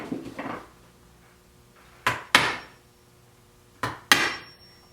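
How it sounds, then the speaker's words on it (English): Sharp strikes of a mallet on an awl punching peg holes through a leather cowboy boot sole, four distinct knocks in two close pairs, each with a short ringing decay, near and alone. "I'm going to use my awl to punch the holes for the pegs."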